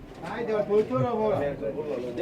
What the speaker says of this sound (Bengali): ভাইয়া পুরা তিন খাঁচা ভর্তি কবুতর নিয়ে আসছে